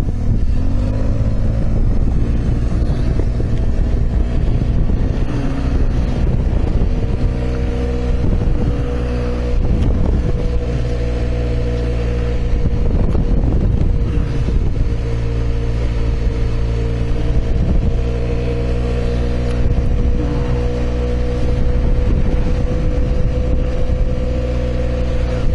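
Yamaha TMAX 530 maxi-scooter fitted with Malossi parts, riding with a loud, steady engine drone that rises and falls with throttle changes and buffeting wind noise, heard close up.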